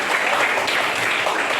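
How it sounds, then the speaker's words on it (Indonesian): A classroom of students claps for a classmate's answer during a science lesson, brisk dense clapping throughout at moderate loudness. "Tepuk tangan dulu untuk pendapatnya"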